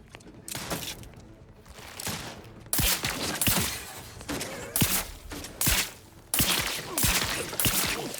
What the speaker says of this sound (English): this gun fires kind of slowly, and the reload is weird